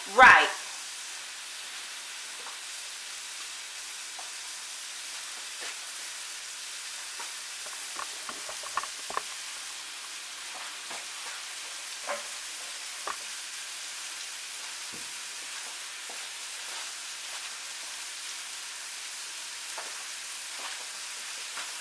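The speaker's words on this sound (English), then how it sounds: "Let that just kind of fry down, baby." Mexican style corn fries in a skillet with a soft, steady sizzle, low and quiet, dotted with faint crackles and pops after a brief loud knock at the start.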